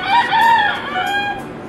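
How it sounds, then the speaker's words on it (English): A rooster crows once nearby, a loud drawn-out call with rising and falling pitch lasting over a second, heard on its own. "It's my rooster."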